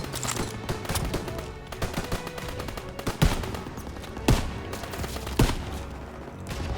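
Machine gun fire in the World War II shooter Call of Duty WWII, rapid overlapping bursts of automatic gunfire with several louder nearby shots and explosions punching through a continuous battle din.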